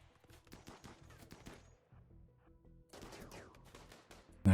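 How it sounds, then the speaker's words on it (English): Turrets in the base-defense game Rimworld fire bursts of rapid, crackling shots, several clusters at first, a short pause, then another flurry, fairly faint against quiet game ambience. "the turrets have started shooting"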